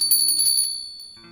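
A shop door customer warning bell used as a radio drama sound effect, a single bright metallic ring that sustains briefly and fades, followed by a softer tone at the end.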